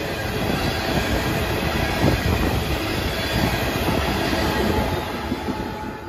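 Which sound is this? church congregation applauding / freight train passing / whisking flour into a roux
freight train passing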